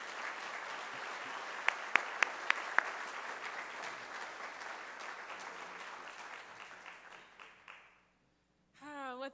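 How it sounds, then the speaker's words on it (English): Sustained audience applause at an education conference on restorative justice in schools, a broad wash of clapping with a few sharp claps that gradually fades to silence before a voice begins speaking. "give her a round of applause."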